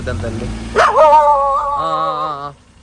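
Street dogs being fed rice late at night give a loud, drawn-out whining yelp that rises and then wavers, close to the mic, after some quieter background noise.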